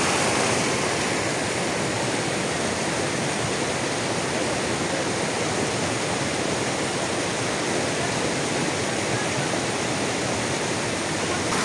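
A mountain river rushes through the Khacharoy gorge in Chechnya. It makes a loud, unbroken roar of churning water, steady and close, with no voices.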